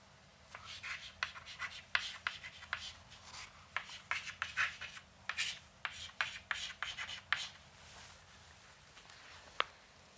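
A pen or marker writing out an equation in a lecture, with quick scratchy strokes and taps in irregular bursts, faint and close in a quiet room, without speech.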